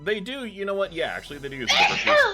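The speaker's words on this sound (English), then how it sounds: "I sneezed." A single sharp sneeze bursts out amid casual conversation, close and fairly loud, with people talking before and after it.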